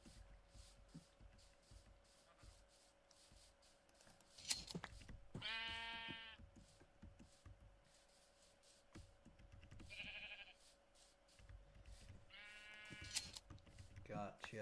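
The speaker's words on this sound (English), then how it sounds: "making sure to shear some sheep along the way." Minecraft sheep bleating in a hardcore survival game, three distinct wavering bleats at intervals over quiet game ambience with faint clicks and shuffling between them.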